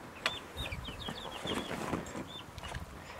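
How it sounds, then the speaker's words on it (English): Young Icelandic chicks peep in a coop, with a run of several high, thin chirps close by over soft scratchy background rustling. "the Icelandic chicks need to get moved"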